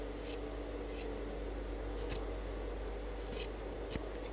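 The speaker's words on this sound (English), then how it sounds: "then you trim off the excess" Scissors snip off excess fabric while a suit is sewn, a handful of short, crisp cuts spaced irregularly over a quiet background.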